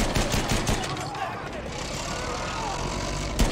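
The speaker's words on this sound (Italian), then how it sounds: "Ehi, c'è una mitragliatrice!" Rapid machine-gun bursts crackle nonstop amid a noisy Battlefield 1 battle, mixed with engine rumble from armored vehicles and shouted voices.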